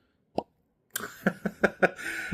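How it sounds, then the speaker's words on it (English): A cork pulled from a bottle of Delord Bas Armagnac XO gives a single short, soft pop, followed by a few close clinks and rustling handling sounds. "Let's go ahead and get this cork popped."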